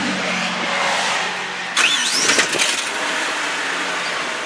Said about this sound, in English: Let the clutch out and let the tranny spin.